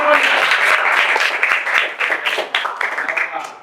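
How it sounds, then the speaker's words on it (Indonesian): Applause from a small gathering for a producer at a casual get-together of a new community group, broadband claps with some voices mixed in throughout. "Tepuk tangan dulu buat produser."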